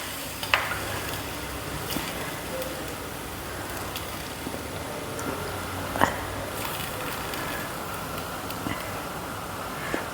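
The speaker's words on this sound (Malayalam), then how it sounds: "ഇളക്കി യോജിപ്പിക്കാം." A spoon stirs fish pieces through a bubbling Kerala-style fish curry in a pan, a steady simmering hiss with a few soft scraping clinks spread across the stretch, no voices.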